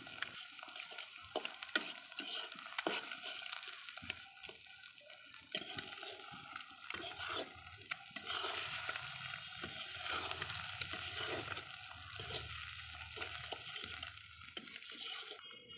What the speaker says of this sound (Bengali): এবার ডিম সবগুলো সবজির সাথে ভালোভাবে নেড়েচেড়ে ভেজে নিচ্ছি